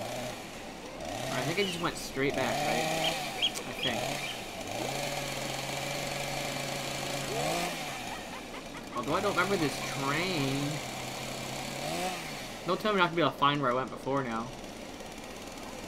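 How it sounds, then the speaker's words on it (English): The Hillbilly's chainsaw in a video game revs intermittently in the distance and grows louder, rising and falling buzzing whines recurring under a player's ongoing talk. "The silence is being interrupted by intermittent chainsaw from afar,"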